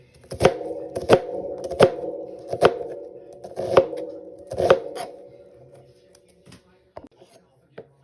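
An onion is chopped on a cutting board with a knife in about eight crisp, evenly spaced strikes over several seconds, close and clear with light handling noise between cuts before it tapers off.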